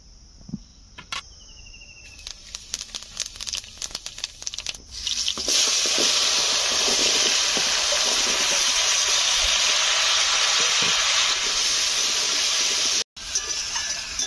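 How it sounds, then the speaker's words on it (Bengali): Whole fennel seeds dropped into hot oil in a wok, starting with scattered crackles and pops, then breaking into a loud, steady, close hissing sizzle that holds to the end. "আর ওই কড়াই তেলে এখন গোটা মৌরি দিয়ে দেবো তরকারি করার জন্যে"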